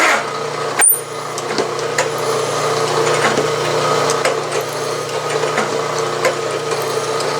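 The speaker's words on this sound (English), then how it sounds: "I blew out the hole, so there's no chips in the bottom of it, and ready to ream" A reamer cuts steadily through a drilled hole in a metal part for a vertical steam engine build. A continuous close grinding, rasping machine tone runs throughout, with a sharp knock near the start.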